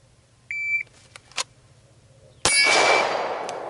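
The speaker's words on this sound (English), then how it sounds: "The casing bounced off something, probably the back of the rear sight, and went forward." Spent brass casing clanging off the rear sight of a gun, a sharp bright metallic ring that decays over about a second, preceded by a short electronic beep and small clicks, close and loud.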